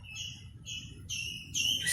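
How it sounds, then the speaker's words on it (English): Birds sing in a garden in Goa, their bright repeated chirps coming in short phrases over a steady low background rumble, growing louder and busier toward the end. "Look at the birds singing"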